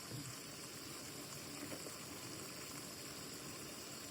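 Berakaya tomato curry (brinjal and tomato) simmers in a pot, giving a soft, steady bubbling hiss that continues evenly with no other sounds.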